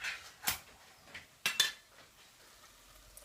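A tin of chopped tomatoes tipped into a chilli mix: a few quiet metallic clinks and scrapes of the can against the bowl, with short soft bursts in between and no talking.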